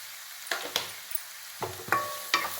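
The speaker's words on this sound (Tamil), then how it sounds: "வெங்காயம் இந்த அளவு நல்லா செவப்பாக வதக்கணும் நல்லா" Onions sautéing in a pan for rajma masala, cooked until reddish-brown, with a faint steady sizzle broken by several sharp scrapes of stirring.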